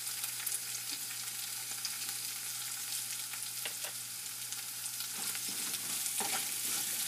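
Chopped shallots and small onion fry in a pan for bitter gourd subji, giving a dense, continuous sizzle with faint stirring scrapes near the end, no speech.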